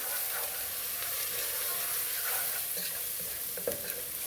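Cabbage with paprika frying in a pan while being stirred: a loud, continuous close-up sizzle with scraping stir strokes and a brief clatter near the end, no talking.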